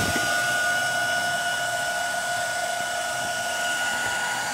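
Hair dryer running continuously and close up, a loud steady whir with a constant high whine throughout, with no speech over it.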